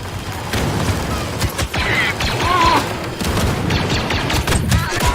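Dense gunfire, blaster shots and a grenade blast fill a battle in Star Wars Battlefront 2, a loud continuous barrage with rattling mechanical bursts throughout.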